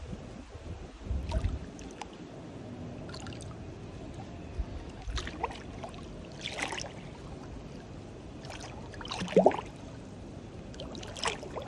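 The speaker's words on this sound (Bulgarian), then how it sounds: "Ето това бълбукане, което виждаш в момента." Water gurgling and trickling softly outdoors among bamboo, palms and trees, a low steady flow with scattered splashes. One brighter bubbling burst stands out near the end. No voices.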